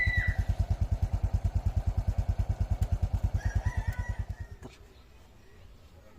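A Honda XRM125 motorcycle engine idles with a steady, rapid thumping pulse close by, then cuts off near the end, leaving a quiet background with faint rustling.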